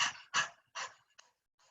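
A yoga practitioner in puppy pose pants in short, breathy bursts that imitate a dog, four or five quick puffs close to the microphone, then growing softer.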